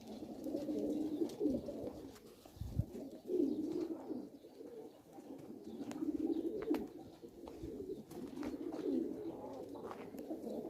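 Pigeons coo in repeated soft, throaty rounds at close range, with low murmuring phrases rising and falling throughout; no talking is heard.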